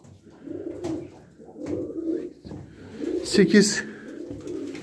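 Pigeons coo close by in soft, repeated throaty rolls that rise and fall, with someone speaking Turkish over and between the calls.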